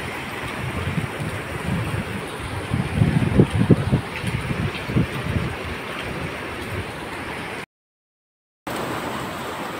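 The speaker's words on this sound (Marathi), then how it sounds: "बंधारा ओव्हरफ्लो होऊन वाहतोय" Floodwater roars over an overflowing weir at the rain-swollen confluence of the Bhima and Bhama rivers near the Chakan–Shikrapur road in Pune District, a steady loud rushing wash with a brief cut near the end.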